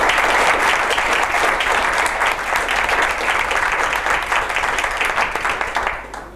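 A conference audience at a panel discussion event claps steadily for several seconds, a dense, close wash of hands that fades off at the end.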